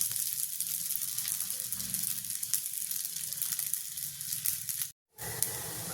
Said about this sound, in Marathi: तर आता हे लाल होईपर्यंत आपल्याला भाजायचं आहे.